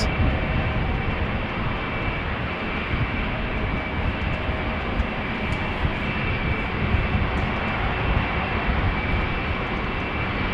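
Retro-liveried airliner landing on the Polderbaan runway at Amsterdam Schiphol, a steady broad engine roar that holds evenly loud throughout with no voices.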